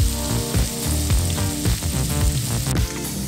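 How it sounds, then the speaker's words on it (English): Speckled trout fillets fry in a hot pan with a dense, steady sizzle and crackle, close and fairly loud throughout, with no talking. "So while our fish is cooking,"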